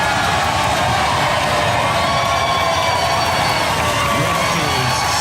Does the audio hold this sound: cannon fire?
no